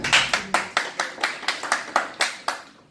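Sparse handclaps greet a speaker at a London business networking event. There are about ten distinct claps in an even, steady rhythm, fairly close and crisp, with each one ringing briefly before the next.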